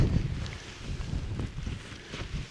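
Wind buffets an old ultralight tent outdoors, a low rumbling gusty roar on the microphone that swells and eases over a couple of seconds, with no talking.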